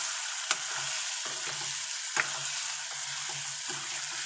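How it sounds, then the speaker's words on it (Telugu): Beetroot mixture fries steadily in hot oil, a continuous close sizzle with a few sharp pops and occasional stirring scrapes throughout. "ఇది ఇంకా బాగా ఫ్రై అయ్యేసి నూనెలోనే వేగిపోవాలన్నమాట."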